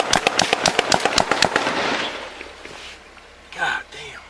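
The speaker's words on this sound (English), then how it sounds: "we got multiple shots fired" A rapid burst of about a dozen loud, sharp rifle gunshots during a police shootout with an active shooter, evenly spaced at first, then a fading echo and a shouted voice.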